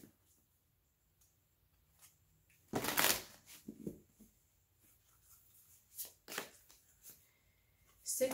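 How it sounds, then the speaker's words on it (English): Tarot cards being shuffled and drawn by hand, quiet scattered riffles and slides with one louder burst of card shuffling midway and a few soft flicks later, in an otherwise hushed room. "I want to just draw some cards real quick because I have a sense of where we're going"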